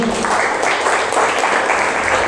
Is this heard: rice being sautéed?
no